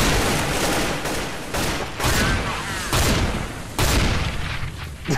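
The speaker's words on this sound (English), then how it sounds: "Fucking decoy grenades. Like, it's just, I'm right beside it, and it's loud as fuck." Counter-Strike: Global Offensive decoy grenade firing fake gunshots right beside the player, a loud, close series of rapid bursting shots in irregular clusters, with a voice talking faintly beneath.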